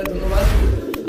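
Many caged fancy pigeons coo in a low, steady murmur close by, with a couple of brief sharper sounds breaking in.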